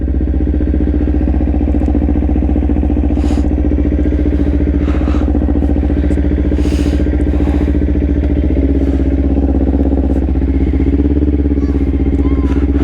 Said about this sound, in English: Letting the bike warm up.